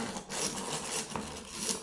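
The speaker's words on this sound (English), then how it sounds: "And drilling a pilot hole here" A drill boring a pilot hole into wood, a continuous grinding, rasping whir that holds steady throughout at close range, with no talk.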